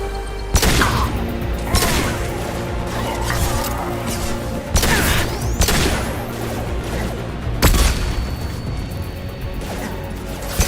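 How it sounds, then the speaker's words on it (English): A flashbang goes off amid a Mass Effect 2 firefight, heard as loud crashing bursts over dense, continuous gunfire and combat noise. "Ooh, flashbang."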